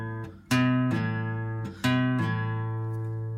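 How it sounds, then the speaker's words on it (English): Sustained guitar notes ring alone, with two sharp plucked attacks where a pull-off pops the note off the string and rings out into a lower pitch. "you're actually going to pull your finger across the string. That's why it's called a pull-off"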